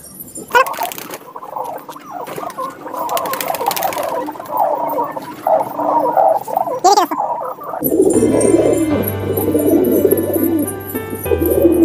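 Pigeons coo and shuffle while pecking at crumbled biscuit, soft repeated coos and light rustling close by, with a denser burst of activity and a low hum in the latter part.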